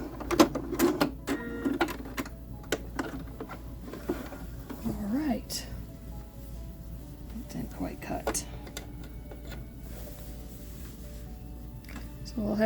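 Sewing machine stitching jelly roll quilt fabric, giving quick bursts of mechanical clatter followed by a quieter steady running whir, with someone talking close by.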